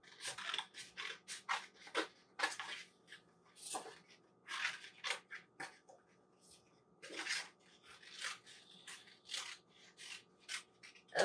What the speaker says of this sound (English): you are going to cut it out with your scissors